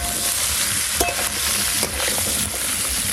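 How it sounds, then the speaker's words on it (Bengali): Potato and drumstick pieces fry in hot oil in a pan while being stirred, giving a steady loud sizzle broken by a few scraping stirs, with no talking. "চাপা দিয়ে দিয়ে খুব ভালো করে ভেজে নেব।"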